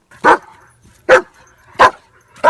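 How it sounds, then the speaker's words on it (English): Four sharp dog barks spaced evenly apart, each loud and close, with quiet gaps between them. "So let us listen to how a dog barks."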